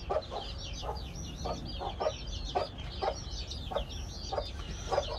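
Chicks peep in a steady, high, overlapping chorus while hens on a farm give repeated short, throaty clucks close by, with no talk over them.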